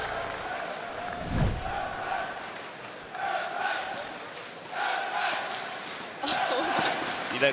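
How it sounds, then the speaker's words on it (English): A crowd chants at the Apex Legends ALGS Year 3 Split 2 Playoffs finals. The rhythmic chant repeats in several swells, heard at a distance under faint commentary. "The crowd is chanting Effect"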